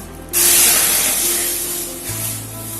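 Full fat milk pours steadily into a wok on a gas stove, a continuous loud rushing splash that starts abruptly and runs without a break, with a low hum joining near the end.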